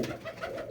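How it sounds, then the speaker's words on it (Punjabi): Pigeons coo in a loft, soft throaty calls repeating close by with no talking, brief and steady. "ਆ ਜੀ ਆਪਣੇ ਕਬੂਤਰ"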